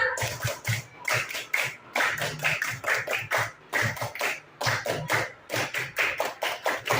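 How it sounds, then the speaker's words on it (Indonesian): A class of children does the tepuk pramuka scout clap, crisp rhythmic clapping in repeated groups separated by short gaps, loud and near, with some shuffling underneath. "Tepuk pramuka."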